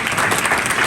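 An audience bursts into loud, dense applause at a Jubilee 2025 gathering, a brief wash of close clapping that fills the moment without pause.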